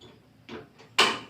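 A few quick clicks from a stove igniter, followed by a sudden whoosh as the gas burner catches flame.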